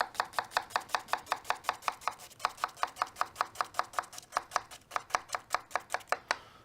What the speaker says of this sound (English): And you're going to start slitting the onion.